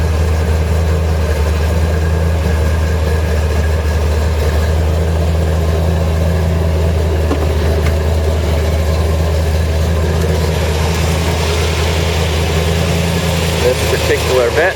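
Idle of a 1970 Corvette LT1 370HP engine with RPO N11 off-road mufflers during warmup, running a little low, a steady loud rumble throughout.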